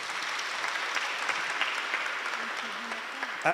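Applause from a church congregation during a service, a steady, moderately distant patter of many clapping hands with a voice faintly audible near the end.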